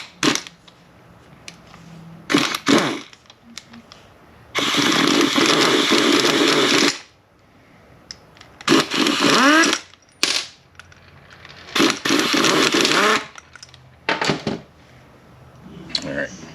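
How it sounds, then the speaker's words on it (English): A pneumatic impact wrench rattles in several loud, sustained bursts as it runs down bolts on a Ford 10R80 transmission case during a recase, with shorter blips between them and quieter workshop background. "I'm just going to tighten it with an impact"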